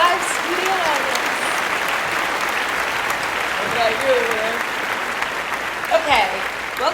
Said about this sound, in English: Where's the applause? Where's the applause? In front of a live studio audience.